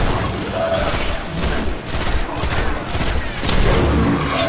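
Rapid bursts of gunfire from the video game Destiny land a headshot, several loud sharp volleys in quick uneven succession with a steady battle din underneath.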